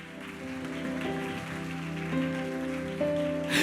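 Congregation applauding during a church sermon, a steady wash of clapping from many hands that holds at an even level throughout, with sustained organ or keyboard tones ringing underneath.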